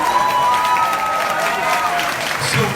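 Crowd applause and cheering greet a senator arriving at a book launch event in São Paulo, a steady, dense wash of clapping that carries evenly through the whole moment with a faint voice over it.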